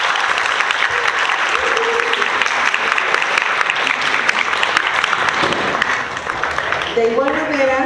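An audience at an academic talk on gender perspective in economics training gives a strong, sustained round of applause, with voices surfacing near the end as it continues.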